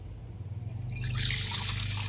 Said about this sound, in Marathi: पाणी आपण भांड्यात टाकून घेऊ